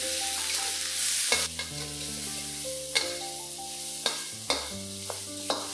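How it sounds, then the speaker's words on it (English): Garlic and prawns stir-fried in an oiled pan, a steady sizzle with repeated sharp scrapes and clanks of a utensil against the pan, close up, no talking. "Stir fry your garlic and prawns for about 30 seconds to a minute"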